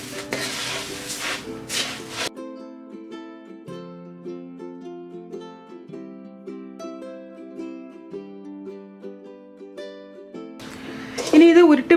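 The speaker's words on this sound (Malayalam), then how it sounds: "ഇനി നമുക്കിത് രണ്ടും കൂടെ നന്നായിട്ടൊന്ന് മിക്സ് ചെയ്തെടുക്കാം" Puffed rice stirred with fried coconut pieces in a pan for a traditional recipe, giving dry scraping rustles at the start and again at the end, with soft instrumental music filling the stretch between.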